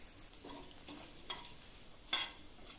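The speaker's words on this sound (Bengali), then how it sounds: "গরম তেলের মধ্যে একটা শুকনো লঙ্কা ও কিছুটা গোটা জিরে ফোড়ন দিয়ে নিয়েছি।" Dried red chili and whole cumin seeds tempered in hot oil in a kadai, a faint low sizzle with a few soft stirring scrapes and one brief brighter crackle near the end.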